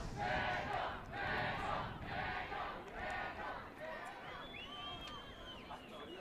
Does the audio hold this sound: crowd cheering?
yes